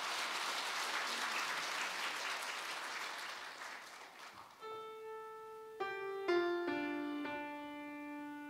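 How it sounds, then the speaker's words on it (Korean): A church congregation applauds during an evening revival service, a steady wash of clapping that fades after a few seconds into sustained piano or organ notes. "박수로 맞아주시 바랍니다."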